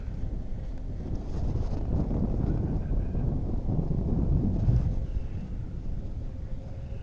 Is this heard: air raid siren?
no